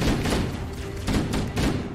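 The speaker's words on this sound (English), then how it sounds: "Okay, I'm hearing shots." Rapid gunfire in the video game Halo: Combat Evolved, dense bursts of shots with heavy thumping impacts filling the whole moment, loud and close with no speech.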